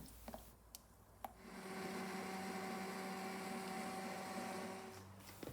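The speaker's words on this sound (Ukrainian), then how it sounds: "ще раз добре пробиваємо блендером для максимально ніжної текстури" An immersion blender purées vegetables for ketchup, whirring steadily at close range for several seconds, spinning up after a few clicks and winding down at the end, with no talking.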